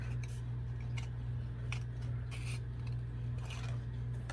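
Small craft scissors snip around a figure cut from a playing card, a string of light, close clicks and snips over a steady low hum, with no talking.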